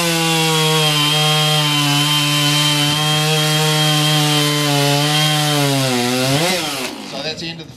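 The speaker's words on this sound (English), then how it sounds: "He puts down that Stihl MS660 90TCC professional saw." A Stihl MS660 professional chainsaw rips through a log at full throttle in a woodchopping race demonstration, a loud steady whine held for about seven seconds before the engine drops and revs down as the cut finishes.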